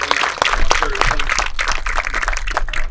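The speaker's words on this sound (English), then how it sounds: "the band, please give them a round of applause" An audience at a Marine master gunnery sergeant's retirement ceremony applauding the band, dense clapping mixed with a voice speaking.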